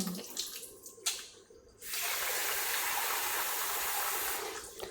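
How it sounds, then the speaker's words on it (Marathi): Tap water running while new storage jars are washed at home, with a few light clatters and splashes before a steady, close stream of water pours continuously. "फक्त हे धुवून टाकायचं"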